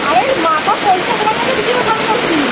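Heavy rain pours down in a dense, constant roar, with voices talking over it.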